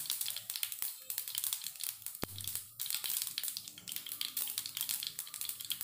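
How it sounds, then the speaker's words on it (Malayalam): Mustard seeds crackle and pop in hot coconut oil in a pan, a soft, continuous sputter of small bursts with no talking. "ഇനി ആ കടുകൊന്ന് പൊട്ടി വരട്ടെ"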